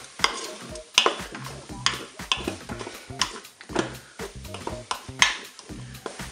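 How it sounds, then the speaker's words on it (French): A spoon stirs shrimp and surimi inside a Cookeo multicooker pot, producing repeated close scraping and clacking strokes in an uneven rhythm over a light background sizzle. "Et je mélange bien sûr le tout."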